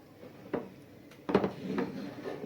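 Butter, milk and cocoa being stirred together in a pot for chocolate balls, with a few clinks of a utensil against the pan and then steadier scraping and stirring, close and moderately loud.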